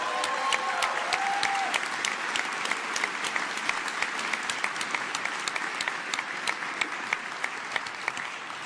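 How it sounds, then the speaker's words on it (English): A large audience at a tech keynote bursts into sustained applause, dense clapping filling the hall at an even level from start to finish. "So let's give them a big round of applause."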